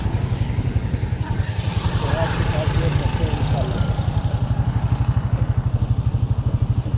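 A motorcycle engine idles with a steady rapid thumping pulse, then revs slightly as the bike sets off, loud and close, with a voice talking briefly over it.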